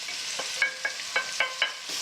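Onion and pancetta frying in olive oil in a pan, a close, steady sizzle broken by a few sharp clicks and scrapes of stirring, with no talk.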